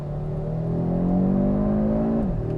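Audi RS3 with about 401 horsepower accelerating hard on sticky Pirelli tires, its engine note climbing steadily in pitch, then dropping sharply near the end as it shifts, close and fairly loud.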